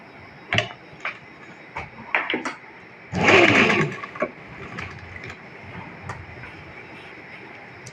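A sewing machine stitches an invisible zipper onto the back of a kurti in one brief, close run of about a second, set among scattered light clicks and handling taps.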